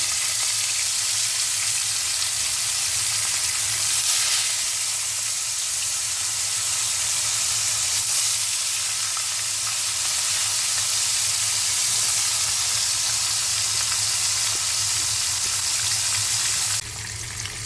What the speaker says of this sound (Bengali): খুব কম আঁচে কই মাছগুলো ভেজে নেব